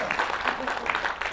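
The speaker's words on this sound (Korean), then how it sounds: "박수도 안 치세요?" An audience at a real-estate brokerage seminar breaks into a short burst of scattered clapping, with a voice audible over the applause.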